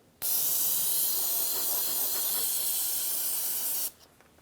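Cleaner sprayed onto an oily engine area near the oil cooler line of a 2007-2014 GMC Sierra 2500 HD 6.0L, one continuous close hissing spray lasting several seconds, starting and stopping abruptly.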